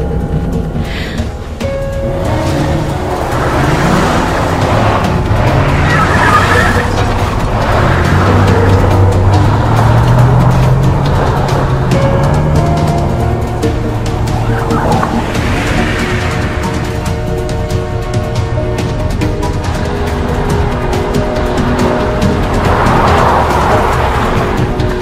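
A car moving off in a French abduction-alert film, its engine droning steadily and loudly for the whole stretch under a layered soundtrack, with no clear starter crank standing out.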